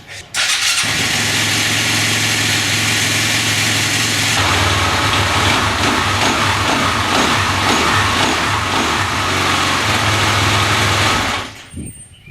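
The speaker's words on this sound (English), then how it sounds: "Well, it runs. It runs. That's very good news. I don't think the engine is as noisy." A 2007 Husqvarna TE250 dirt bike fitted with a 300cc engine runs continuously, a loud buzzing rumble that steps up in revs partway through, then cuts off abruptly near the end.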